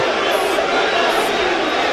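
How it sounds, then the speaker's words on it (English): A dense, steady roar of an unhappy crowd at a celebrity boxing match fills the arena without pause, with the noise of many voices blending into continuous loud chatter. "Well, the crowd aren't happy"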